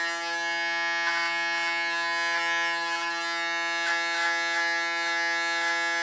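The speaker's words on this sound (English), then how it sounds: "Set the clipper on the skin where the under part of the blade" An electric hair clipper held against the skin while cutting hair gives a steady, close, buzzing motor hum with slight wavering, and no one speaks over it.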